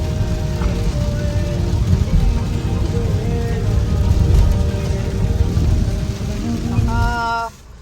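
Steady rain falling outdoors, a constant loud hiss and patter lasting several seconds before cutting off, with faint tonal sounds in the background.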